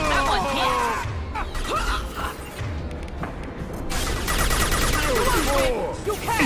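Rapid bursts of gunfire in the sci-fi shooter Mass Effect Legendary Edition (Mass Effect 2), loud and dense throughout, with combat voices calling out over the shots.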